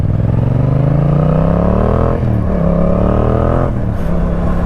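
A Yamaha MT-07 motorcycle with a louder aftermarket exhaust and a dB killer fitted revs hard and close, its note climbing, dropping sharply, then rising again in repeated loud pulls.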